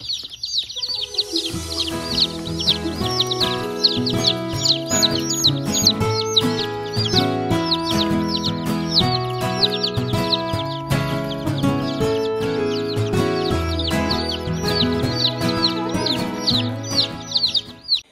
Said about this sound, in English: And then we got our baby chicks yesterday, and they are all doing well.